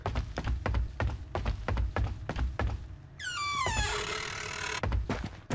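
Door in the indie horror game Paranormal, a drawn-out creaking swing with a falling squeal, then a dull thud, set among repeated heavy footstep thumps, fairly close and without talk.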